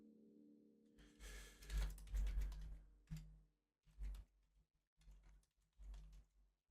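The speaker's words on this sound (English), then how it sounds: "Apologies if you can hear me typing away." Typing on a computer keyboard, quick bursts of clicking keys in uneven clusters with short pauses between, fairly close and alone after a faint low hum at the start.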